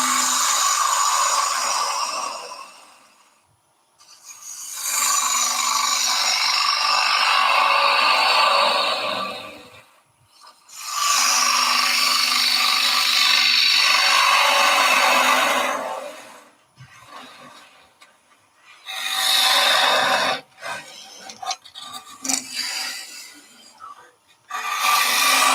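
A bowl gouge makes depth cuts into wood turning on a lathe, heard as loud, broad scraping bursts of several seconds each, separated by short pauses, with a steady low hum running beneath the cutting.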